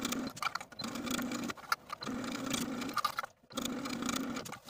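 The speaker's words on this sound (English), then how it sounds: "now I'm going to take this armhole to my sewing machine and stitch in the crease of the bias tape" Sewing machine stitching bias tape around a dress armhole in steady bursts, a whirring mechanical hum that stops and restarts several times with short pauses between runs.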